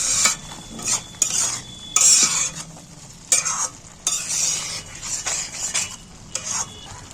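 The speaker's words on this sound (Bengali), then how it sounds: "এইবার আমি নাড়াচাড়া করে নিচ্ছি" Grated paneer is stirred in a frying pan, with bursts of sizzling and scraping as a utensil moves through it in uneven strokes, close and moderately loud, with short pauses between strokes.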